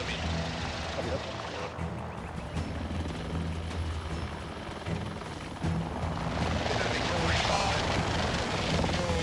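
A rescue helicopter hovers over a winch operation. The rotor and engine keep up a loud, steady roar throughout, and the roar swells near the end. Radio voices talk over the noise.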